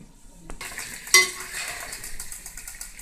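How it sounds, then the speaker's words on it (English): Kidney and fish fry in a pot for ugu soup, giving a soft sizzle. A sharp metallic clank of a utensil or lid is followed by quieter crackling, with no voices. "the kidney, the fish, and everything has fried"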